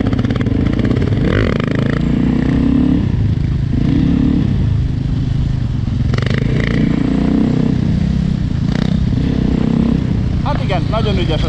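A DRZ400E or EXC500 dirt motorcycle doing wheelies roars loudly and close, its engine surging and easing in repeated throttle swells, while someone talks over it.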